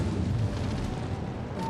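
Torpedo strike on a warship in World of Warships, a heavy rumbling explosion with a sustained deep roar that fills the whole moment.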